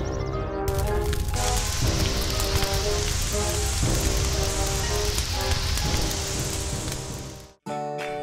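Toy water cannon spraying onto a fire in a Playmobil fire brigade scene, a steady hissing rush of spray with a rain-like patter, continuous and loud for several seconds before cutting off abruptly.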